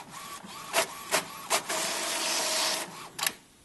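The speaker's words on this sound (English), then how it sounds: "And there's the email that I just printed directly off of my iPad." An Epson XP 800 inkjet printer prints an email sent from an iPad: a few sharp mechanical clicks and whirs, then a sustained paper-feed and print-head drone with a high tone, ending in another short clunk, close and alone.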